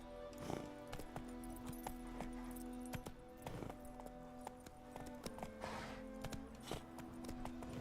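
A horse in The Witcher 3 video game clip-clops along at a steady gallop, hoofbeats evenly repeating and fairly close, with a brief whinny and a soft ambient backdrop.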